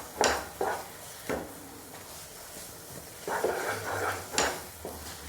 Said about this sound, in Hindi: तो इसको लगातार इसी तरह से चलाते रहेंगे